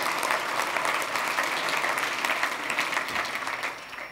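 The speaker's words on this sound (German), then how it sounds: "Können Sie mal klatschen" Conference audience applauding steadily at a corporate event, a dense wash of many hands clapping that holds loud throughout and tapers slightly near the end, with no talking over it.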